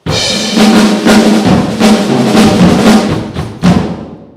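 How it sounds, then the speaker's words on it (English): A drum kit played in a quick, busy lick: snare and tom hits with cymbals washing over them, loud and close, ending on a final crash. "Ed, you're going to give us a little lick on the drum kit?"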